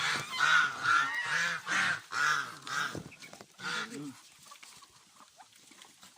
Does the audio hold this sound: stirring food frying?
no